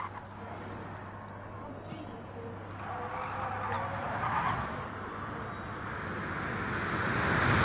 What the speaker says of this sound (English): He's playing with the handbrake.